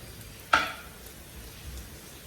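Beans frying until crispy let out a single sharp spattering pop that fades into a brief sizzle, then low quiet background.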